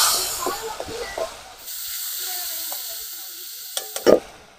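A paste of ground cumin, ginger, garlic and pepper hits hot oil with a loud, steady sizzle and hiss. Softer stirring and clinks sit in the steam, and a couple of sharp metallic knocks come near the end.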